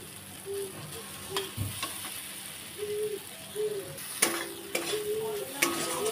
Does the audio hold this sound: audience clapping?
no